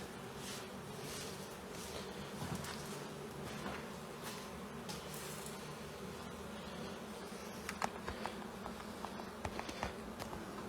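A dense, steady drone of many honey bees buzzing inside a house chimney, a soft continuous hum with a few individual bees passing close and brief faint clicks and knocks near the end.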